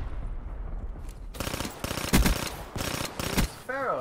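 Pharo burst weapon firing in a video game: several rapid bursts of gunshots in sharp clusters, loud and close, with a quieter stretch before and a voice starting at the end.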